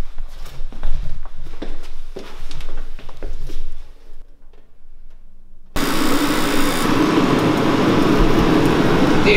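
A BMW E30 drift car engine roars into life, a loud steady whooshing rumble like a jet car that holds continuous to the end, after a stretch of clattering handling noises and a brief quiet gap.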